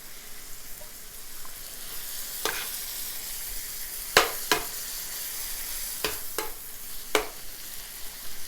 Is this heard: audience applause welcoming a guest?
no